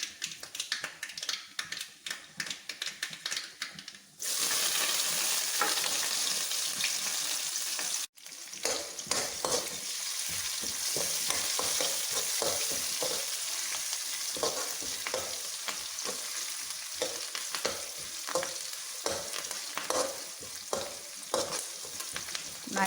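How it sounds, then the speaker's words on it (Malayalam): Three green chilies, two pieces of ginger and curry leaves sauté in sesame oil for a homemade rambutan pickle, giving a loud, steady, close sizzle after a few seconds of soft clicking, with a brief break and then continuing sizzling under frequent stirring scrapes and taps. "നല്ലെണ്ണയിൽ കിടന്ന് നന്നായിട്ട് വഴന്ന് വരട്ടെ."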